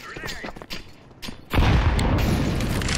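A video game grenade goes off with a sudden loud boom about halfway through, and a dense rumbling blast roars on to the end. Softer game noise and voices come before it.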